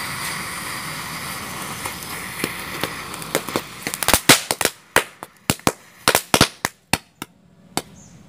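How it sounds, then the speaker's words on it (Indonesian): Tank-style firecrackers go off in a duel: a crackling fizz builds into a rapid burst of loud, sharp bangs, then scattered single reports spaced further apart as the volley dies away outdoors. "Selanjutnya kita akan eksperimen duel mercon tank."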